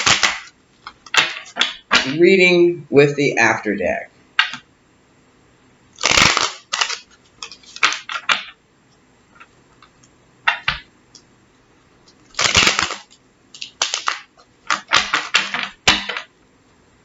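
Bursts of rapid crisp tarot card riffling and flicking come in several separate runs, close up, with brief spoken words between them.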